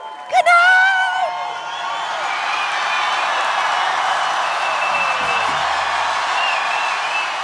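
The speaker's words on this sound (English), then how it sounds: "round of applause for you guys" Studio audience breaks into loud, sustained applause and cheering with whoops at the close of a live comedy recap show, a sharp shout near the start, then steady clapping rolling on to the end.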